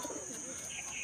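A racing pigeon arriving at its loft gives a brief, soft cooing call, close by and fairly quiet, lasting about a second.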